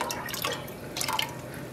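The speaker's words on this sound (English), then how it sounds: "I also meant to rinse out the rest of this Fawn color" Water splashes and trickles inside a dye bottle as leftover fawn dye is rinsed out, making soft close dripping and sloshing sounds with no talk.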